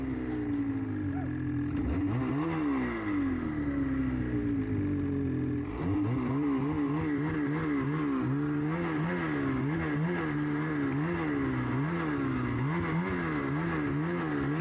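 Naturally aspirated snowmobile riding down a canyon, its engine droning steadily and close throughout, rising and falling in pitch as the throttle works, with a brief dip near the start and faint clatter.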